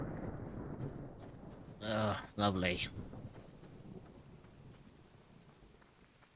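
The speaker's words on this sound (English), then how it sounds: "the moment you hear like the bang of thunder, it immediately starts like pissing rain?" A video game thunderstorm with a loud, close rumble of thunder and steady heavy rain, while a person talks briefly over the storm.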